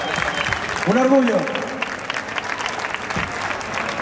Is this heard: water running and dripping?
no